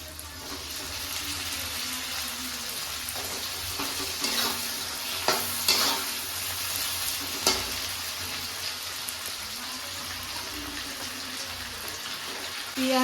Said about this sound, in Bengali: এই হালকা ভাজা হয়ে গেছে, এবার আমি মাংসগুলো ছেড়ে দিচ্ছি।